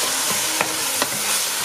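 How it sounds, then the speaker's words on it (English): Onions and garlic fry in sausage-infused oil in a pan, a steady sizzle broken by a couple of sharp scraping stirs, close and without talk. "Once those onions and garlic have been cooking up about 5 minutes"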